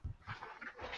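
A dog in a room gives a few short, soft whimpering yelps close by. The sounds come in small uneven bursts over about a second, with no clear speech.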